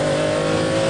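A Ferrari Enzo engine revs hard and howls as its intake opens, a loud, steady, sustained note filling a single brief moment.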